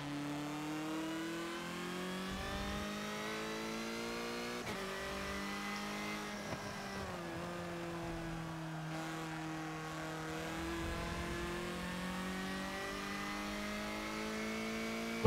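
A Porsche 911 engine in the Forza Motorsport 7 racing game drones steadily at sustained high revs, its pitch slowly rising and dipping through gear changes, fairly quiet with no voices.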